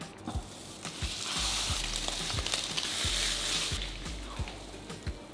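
Meat and other ingredients sizzle steadily in a hot pan, a close, continuous hiss broken by regular soft knocks and scrapes of stirring, with no talk.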